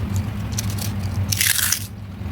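Crispy homemade chips made from leftover rice are snapped by hand, producing a sharp, bright crunch burst of about half a second over a low background hum.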